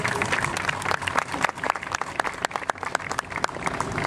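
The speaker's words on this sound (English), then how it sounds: "She deserves a round of applause." A crowd applauds steadily, many hands clapping at once in a dense, lively burst that carries on throughout.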